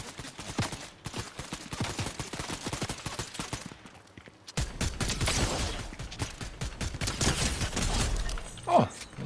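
Rapid bursts from the Twin Mag Assault Rifle in Fortnite, sharp repeated shots in quick volleys, then a louder, denser stretch of firing with heavier impacts before a sudden stop.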